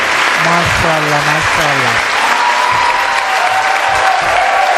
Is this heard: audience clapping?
yes